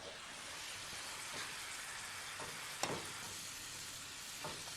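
Onions soften in a soup pot with a faint, steady sizzle that sounds almost like light rain. One brief clink cuts through midway.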